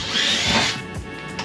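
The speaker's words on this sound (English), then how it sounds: "Drill a hole and we'll transfer that up top." A power drill boring a hole in a camper van roof for a Maxx Air fan, a short close high whine that bogs down and trails off into scraping bursts.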